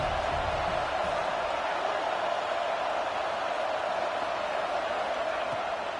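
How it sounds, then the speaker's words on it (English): A stadium crowd at a college football game roars on third down against Texas, a steady, dense wash of rumbling noise that fills the whole stretch without breaks, with no voices standing out. "The Tide crowd rolling noise down onto Saban Field on third down."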